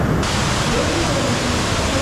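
A waterfall at a water park roars loudly and steadily, producing a dense, unbroken wash of rushing water close to the listener.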